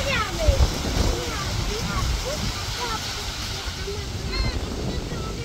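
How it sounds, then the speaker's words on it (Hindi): Strong storm wind roars across the microphone with a steady wash of rain noise, heavy gusting throughout and no clear separate events. "बारिश भी शुरू हो गई है"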